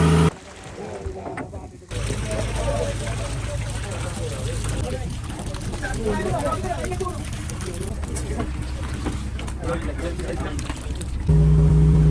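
A purse seine fishing boat engine running at sea, a continuous low drone with wind and water wash over it; a short, quieter stretch opens before the steady engine rumble takes over.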